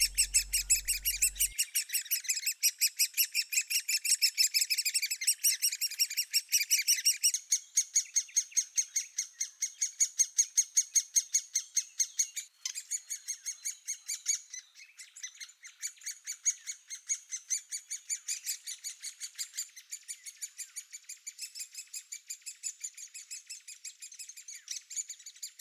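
A great spotted woodpecker calls in woodland, a long run of rapid high, sharp chirps repeating in fast regular series, clear and close with no voices.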